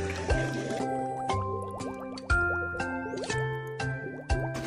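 Water trickles and drips in a garden fish fountain, falling in a steady run of plops and splashes up close, with no voices over it.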